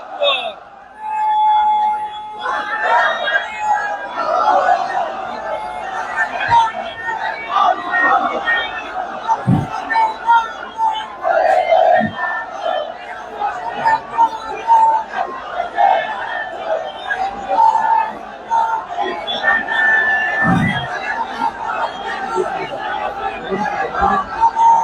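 A large crowd at an outdoor Islamic sermon gathering in Bangladesh roars the takbir slogan in repeated waves of massed shouting, steady and loud throughout with a babble of voices between chants.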